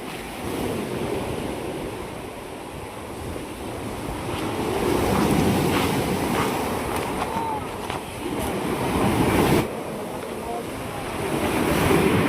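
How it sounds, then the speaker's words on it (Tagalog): Powerful ocean waves crash and surge continuously at Mauban, Quezon, with gusty wind buffeting the microphone and a roaring, broadband wash throughout. "Grabe lakas naman ng alon na yan."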